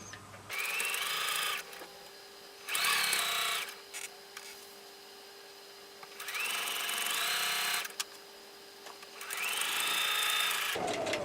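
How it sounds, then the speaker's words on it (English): A sewing machine stitches quilt binding in four sustained runs separated by short pauses, each burst steady and fairly loud with a whirring motor tone, sewing toward a corner before stopping. "sew all the way to the corner, about 1/4 of an inch away from the corner, then veer off diagonally"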